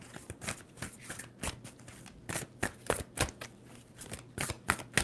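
Tarot cards shuffled by hand in quick, irregular bursts of crisp riffling and slapping, close and fairly quiet, with no talking.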